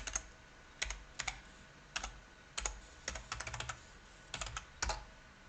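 A password is typed on a computer keyboard in bursts of crisp, close key clicks, several quick presses at a time separated by short pauses, in a quiet room.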